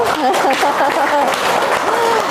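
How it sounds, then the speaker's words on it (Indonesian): A classroom of pupils claps after hearing the story of Jack and the beanstalk, a dense, steady patter of hands close by, with children's voices calling out over the clapping. "Tepuk tangan dulu"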